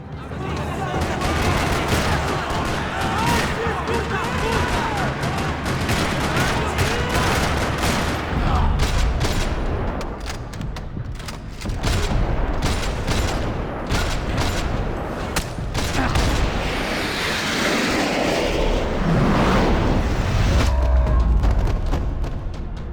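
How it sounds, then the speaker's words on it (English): Rapid bursts of gunfire in a parking lot in the video game Max Payne 3 rattle continuously, loud and dense, with booming impacts and a voice talking briefly over the chaotic din. "Another parking lot rattling with gunfire."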